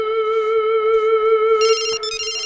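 A phone ringtone plays loudly and alone, a steady repeating electronic melody that briefly shifts to a brighter, higher tone near the end.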